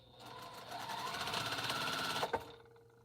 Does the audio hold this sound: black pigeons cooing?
no